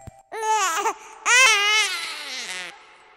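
An infant cries in an animated horror story, two sustained wailing bursts separated by a short pause, loud and close with no other sound.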